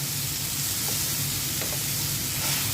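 Chopped onion, garlic and green chilli frying in a pan alongside tomato and brinjal for a chutney, making a dense, even sizzle that holds steady and loud throughout.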